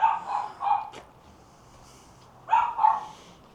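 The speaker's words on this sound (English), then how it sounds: "Sorry for the dog barking." A dog barks several times nearby, two sharp barks, a pause, then two more, with quiet in between.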